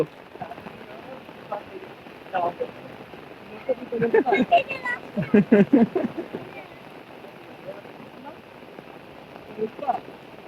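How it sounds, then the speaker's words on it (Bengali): Heavy rain pours down outdoors in a village as a constant wash of hiss, while people nearby talk and exclaim in bursts over it. "যে বৃষ্টি পড়তেছে মামার চারিদিকে"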